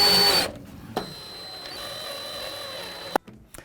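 Power driver sinking screws into brackets on a fireplace frame for a media wall build, a sustained whirring run bracketed by short sharp clicks and thuds, fairly close.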